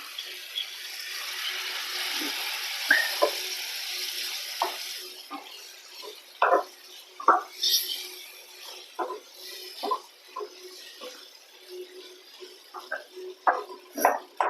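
A spoon works through mutton sukka in a pan after a little water has been added, giving soft irregular scrapes and wet squelches at an uneven rhythm, close and moderately loud, with faint simmering underneath.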